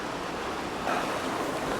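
A creek flowing through a ravine below a hidden waterfall in the LA suburbs gives a steady, close rushing wash of water with no break and no voices.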